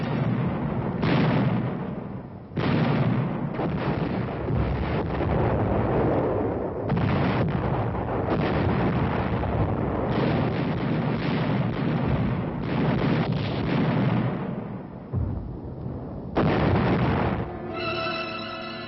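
Communist artillery bombarding the offshore islands of Quemoy and Matsu: loud, continuous rumbling barrage with repeated heavy booms and blasts in close succession, filling the whole span with dense, roaring low-end.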